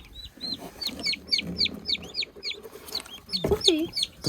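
Chickens on a farm, kept together with turkeys, cluck in quick repeated bursts at close range, with a louder squawk near the end and faint background murmur beneath.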